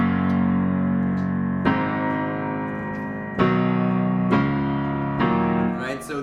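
Piano playing the bridge transition of a song, a few sustained chords struck one after another and left ringing with a reverberant tail, close and fairly full, no talking.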